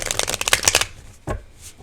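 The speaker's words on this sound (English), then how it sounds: "One more shuffle." Tarot cards being shuffled by hand in a rapid burst of papery riffling flicks, then a short pause and a single softer card slap, close and clear with no talking.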